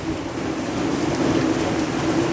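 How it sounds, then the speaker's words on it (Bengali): Steady heavy rain pours down in Dhobaura in a dense, unbroken hiss with a low rumble underneath, continuous throughout with no voices. "প্রচুর বৃষ্টি হইতাছে"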